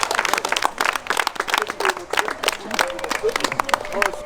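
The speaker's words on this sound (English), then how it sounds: "Oh, round of applause." A crowd applauds at a Māori cultural village show in Rotorua, New Zealand, with steady, dense clapping and cheering mixed with voices talking over it.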